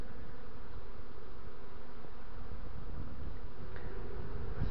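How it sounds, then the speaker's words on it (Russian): A swarm of honey bees crawls into a hollow in a sawn linden tree, a dense, continuous buzzing hum close by, steady and loud throughout. "Спиленная липа образовалась дупло, и туда пчелы лезут."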